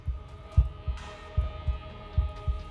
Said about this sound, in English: Why is that heartbeat so fucking loud?